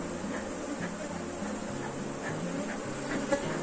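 A honeybee swarm hums at the hive, a low steady buzz with a droning tone close by, faint overall with occasional slight shifts in pitch.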